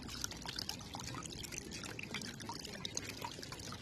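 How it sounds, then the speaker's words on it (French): Water runs steadily from a drinking fountain at the Alhambra in Granada, a close, continuous splashing pour with a bright trickling texture and no pauses. "Fontaine à eau, important."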